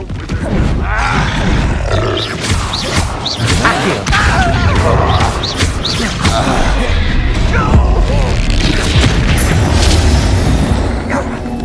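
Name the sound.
Capulso/Confringo spell explosions from the video game Hogwarts Legacy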